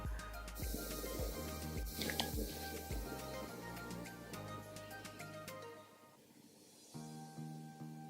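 ColourPop All Star setting spray misting from its bottle: several short, sharp spritzes in quick succession, faint and close, with no talking.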